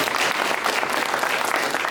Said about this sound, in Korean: 우리 한 박수로 또